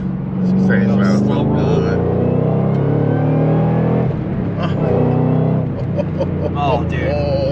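Ford Mustang GT500 or GT350 overhead-cam engine pulling hard under load from inside the car, a deep steady droning rise in pitch, loud and continuous, with voices talking over it.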